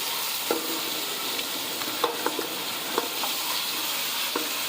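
Mutton for nalli nihari fries over high heat in a pot, giving a constant bright sizzle broken by scattered scraping knocks as a spoon stirs the meat.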